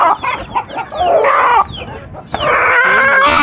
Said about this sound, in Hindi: अब बारी है इस वाले मुर्गे की, इसको मैं यहाँ से उठाता हूँ